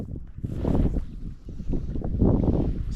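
Wind gusts across a river during fishing, buffeting the microphone with low rumbling surges that rise and fall in loud bursts, with no talking.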